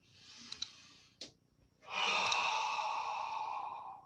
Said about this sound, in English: Breathing out. Breathing in. Breathing out.